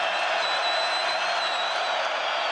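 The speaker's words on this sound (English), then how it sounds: "now here comes this crowd at the Marriott Center" A basketball crowd in the Marriott Center arena at a Texas Tech versus BYU game roars in a dense, sustained wall of cheering, loud and continuous throughout.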